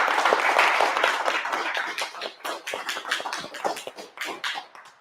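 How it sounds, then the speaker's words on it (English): Audience applause at the Orlando Mega Mansion event, starting as a dense burst of clapping and thinning into scattered, uneven claps that fade out over a few seconds. "Give yourselves a round of applause for showing up."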